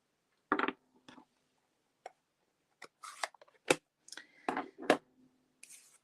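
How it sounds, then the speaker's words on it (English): Scissors snip a small scallop shape from paper for a handmade monochromatic greeting card: short, close, crisp cuts in uneven bursts with quiet gaps between them. "And then I cut another little scallop shape."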